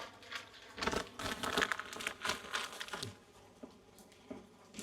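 Plastic wrapping on a package crinkles and rustles in short, irregular bursts as it is opened, close and fairly quiet, with no talking.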